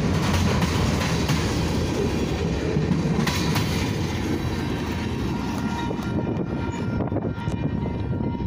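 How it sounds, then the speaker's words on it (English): BNSF-led Union Pacific freight train rolling slowly past at Kinder, Louisiana, a steady, loud, close rumble of wheels and cars with faint clicking, continuous and without speech. "and the train's near"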